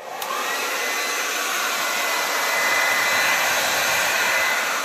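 A hair dryer on its high setting blows steadily across wet acrylic pour paint, a loud continuous whoosh that holds for about five seconds without any voices.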